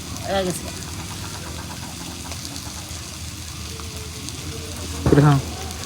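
New potatoes and flat beans frying on a clay stove, a steady low sizzle running throughout beneath background noise, with brief voices talking at the start and near the end.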